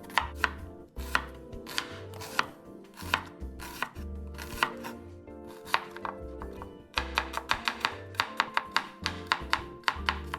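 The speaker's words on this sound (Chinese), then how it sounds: "洋葱1个，100克左右，切细后备用" One onion of about 100 grams chopped finely with a knife on a cutting board for potato pancakes gives quick, rhythmic chopping in bursts with short pauses, close and crisp, with music playing underneath.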